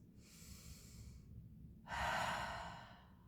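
Two big, deep breaths taken slowly while lying on a therapy ball, soft and close: a gentle airy inhale followed by a louder, fuller exhale, with no talking.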